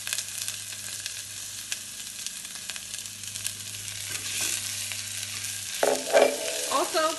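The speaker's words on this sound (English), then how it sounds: "I'm going to go ahead and add the jalapeños." Jalapeños sizzling in a pan as a spoon stirs them, a steady close frying hiss with scraping and clinks that grow busier near the end.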